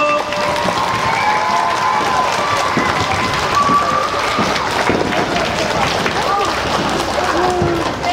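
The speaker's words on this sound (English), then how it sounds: "Let's give them a nice big round of applause and thank you." A school audience in Winchester, New Hampshire gives sustained, dense applause after a performance of Prokofiev's Peter and the Wolf, a steady wash of many hands with scattered voices and cheers mixed in.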